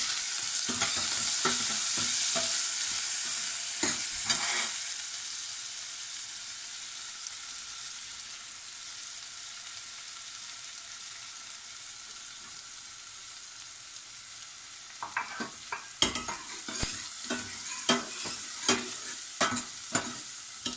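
Curry leaves and dried red chili sizzle in hot oil in a pan for a spicy Indian green pea soup: a loud, close hiss that fades to a gentle fry, with bursts of stirring at the start and end.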